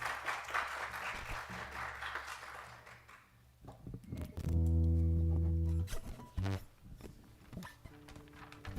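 Applause from an audience at a formal anniversary ceremony for a school crackles for a few seconds, then fades as a low sustained tone, probably an organ or keyboard, enters with voices and scattered bumps.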